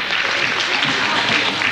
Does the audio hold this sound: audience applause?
yes